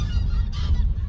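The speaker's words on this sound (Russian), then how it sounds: "Гуси, утки." Geese honk in a village yard near the Rumkale fortress on the Euphrates in Gaziantep, Turkey: a brief burst of close, loud, nasal honking.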